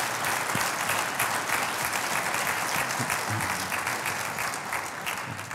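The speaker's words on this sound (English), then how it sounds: "I want to give Marcus Barnes and Norbie Lara another round of applause for their time and perspective." Audience applause at a business luncheon honoring the Wounded Warrior Project, a dense, steady clapping from a room full of guests that holds evenly throughout and fades slightly at the end.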